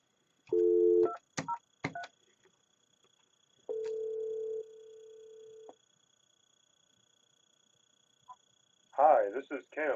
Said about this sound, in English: Let's call this extension and see what happens.